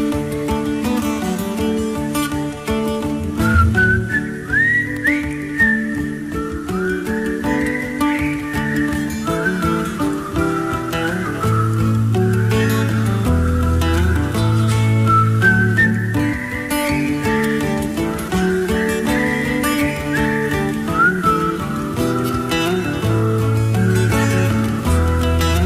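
A melodic whistled tune rises and falls over a full band backing track with steady bass and drums, lasting throughout.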